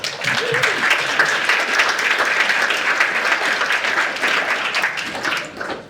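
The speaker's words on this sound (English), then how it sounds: "So big round of applause for the volunteers, please." Steady audience applause at a community pilot update event, a dense wash of many hands clapping continuously for several seconds before tapering off at the end.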